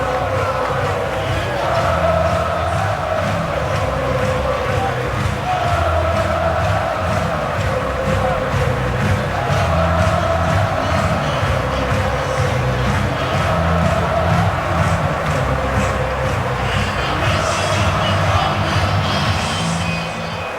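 A record crowd of 114,000 fills Michigan Stadium for its first night football game, against Notre Dame in 2011, producing a continuous loud roar of cheering and chanting throughout, with no clear talk above it.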